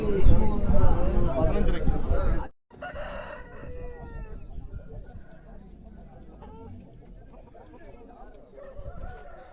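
A rooster crows at a hen market in Krishnagiri, Tamil Nadu, with a burst of crowd noise, a brief gap, then quieter birdsong and clucking under the market bustle.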